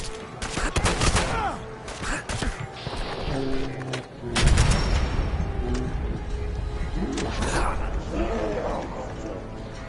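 Gunfire from the Fallout 4 video game, rapid bursts and booming shots under frequent talk, with a continuous rumbling battle din throughout.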